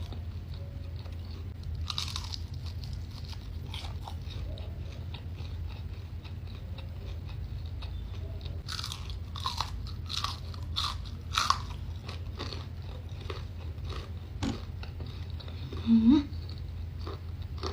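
Crunchy bites and chewing of fried risol, close to the mic, with scattered crisp crackles at irregular intervals over a low steady background hum.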